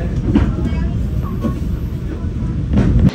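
Loud rumble of a train departing Kertosono station in Indonesia, rolling and gathering speed, with clattering wheels and carriage noise throughout.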